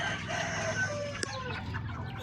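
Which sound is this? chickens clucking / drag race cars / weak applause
chickens clucking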